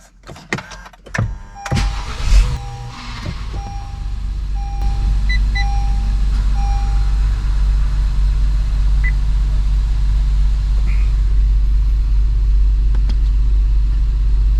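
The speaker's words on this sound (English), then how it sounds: "So now we're gonna start the car." An Acura car engine cranks and catches after a couple of seconds, then settles into a steady, low, continuous idle rumble that holds evenly to the end.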